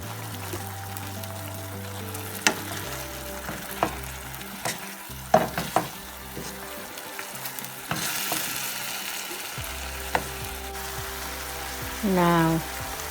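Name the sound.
egg and rice frying, sizzling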